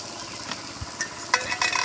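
Koloi greens and fish sizzle in hot oil while a spatula stirs them in the pan, a continuous crackling fry with a few soft scraping strokes and a dull knock, close and alone.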